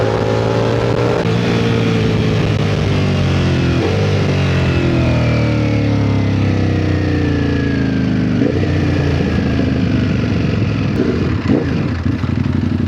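Ducati Panigale V4S superbike ridden through city traffic, its engine note loud and close throughout, rising and falling in pitch as it revs and shifts gears, with a few abrupt changes in tone.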